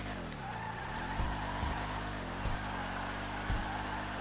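A car engine sound pack in the GTA video game gives a steady, loud engine drone with shifting revs, broken by a few short tire chirps and skids, with no talking.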